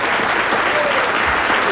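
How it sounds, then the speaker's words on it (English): A game show studio audience gives a steady round of applause, dense and continuous clapping filling the room briefly at close range, with a faint voice beneath. "give them a big round of applause"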